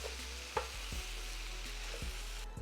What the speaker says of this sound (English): My cabbage has been simmering.